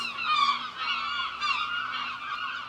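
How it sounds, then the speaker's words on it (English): Seagulls gather by a seaside cliff and call in a series of loud, nasal, repeated cries that overlap and rise and fall in waves, with no voices. "Check all the seagulls."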